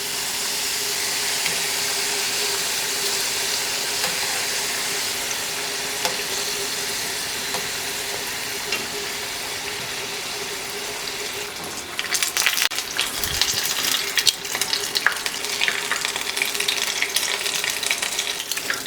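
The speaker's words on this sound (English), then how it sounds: "we are going to drop the crab rangoon into the oil" Crab rangoon cream cheese wontons fry in hot oil with a steady, close hiss of sizzling that swells louder and more crackly as more are dropped in.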